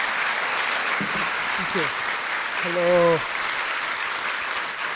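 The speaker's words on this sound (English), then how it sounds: "Give him a round of applause." An audience at a project management conference applauding to welcome a speaker to the stage, steady crowd clapping throughout, with someone briefly speaking over it near the middle.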